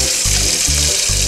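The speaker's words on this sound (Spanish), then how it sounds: "Abrimos el grifo y lo lavamos." Water runs continuously from the tap of a toy kitchen sink during pretend dishwashing, a close, steady splashing flow with a low pulsing hum underneath.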